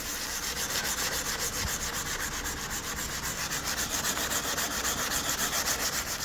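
Continuous rapid scraping of 220-grit sandpaper rubbing back and forth over a yellowed car headlight by hand, close and steady with a quick regular rhythm throughout.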